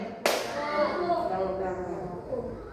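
One sharp hand clap rings out in a classroom coding lesson, followed immediately by a voice talking.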